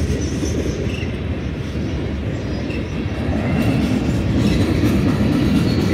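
A heavy Union Pacific ballast train rumbles by nearby in Sacramento, California, a dense low clattering roar that holds steady and grows slightly louder toward the end.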